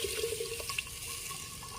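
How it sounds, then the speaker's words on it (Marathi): Boiled water is poured into a hot spice tempering for a goat head mutton curry, giving a steady close splashing, gurgling pour that runs for under two seconds with no talk. "आता हे बॉईल केलेलं पाणी आणि आपण फोडणी घालूया"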